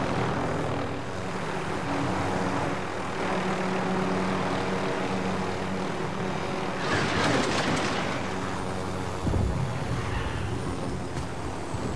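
A helicopter in the Call of Duty: Modern Warfare video game roars with a steady, loud rotor and engine drone that swells briefly midway, with no talk over it.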